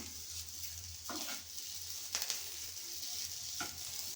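Carrot fry with coriander is turned in a pan under a faint, continuous sizzle, with a few soft scraping strokes of stirring spaced a second or so apart.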